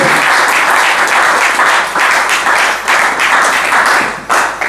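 A church congregation applauds and cheers loudly in praise during a worship service, the clapping dense and sustained with slight dips in intensity.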